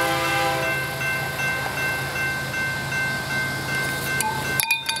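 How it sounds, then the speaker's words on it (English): A BNSF coal train crosses a road near St. Cloud, Minnesota, its horn sounding with steady tones over a low rolling rumble, loud and nearby, with a few sharp knocks at the end. "It's a BNSF train crossing Minnesota 301."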